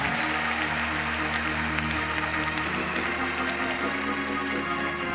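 Church congregation clapping and shouting at a revival service, a dense, steady wall of crowd noise that carries loud and unbroken throughout.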